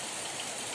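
Water pours steadily from a spring water spout at a spiritual site, a soft, even hiss of splashing that runs without pause.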